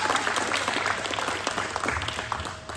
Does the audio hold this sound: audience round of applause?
yes